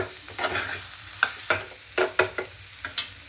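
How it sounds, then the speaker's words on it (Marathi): A vegetable curry being stirred in a pan after coriander is added, a series of close, brief scraping strokes of a spoon over a soft sizzle. "कोथिंबीर टाकल्यानंतर परत मी हलवून घेणार आहे।"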